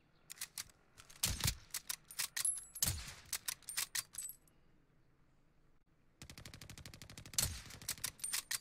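Gunfire in Call of Duty Modern Warfare: rapid automatic bursts and sharp single shots crack loudly, pause briefly, then resume as a sustained volley.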